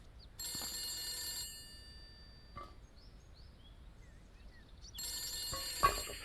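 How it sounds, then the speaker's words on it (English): A telephone rings in the video game The Beast Inside, two bright electronic ringing bursts separated by a quiet pause, heard alone with no talk. "If I don't pick up the phone, it'll never stop ringing."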